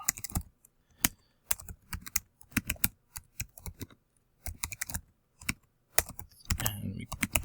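Someone types a username on a computer keyboard, with quick irregular clusters of close, crisp key clicks separated by short pauses, ending in a louder rustle.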